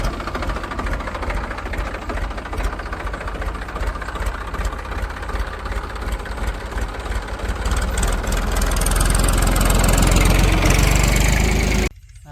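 A tractor engine runs steadily nearby with a loud, rough, chugging drone that grows somewhat heavier toward the end before cutting off.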